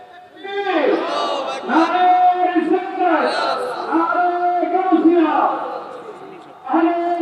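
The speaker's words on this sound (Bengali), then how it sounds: "তাকবীর দেন।" Crowd of men at an outdoor religious gathering shouting a takbir chant in unison, loud, sustained voices rising and falling in several surging call-and-response bursts.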